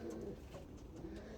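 Racing pigeons cooing softly inside a loft, a faint, low murmur of overlapping coos that runs steadily through the short moment.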